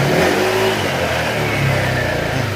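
A motorcycle engine, freshly repaired yet pouring white and black smoke, revs loudly and steadily up close, a continuous rough roar with no talking.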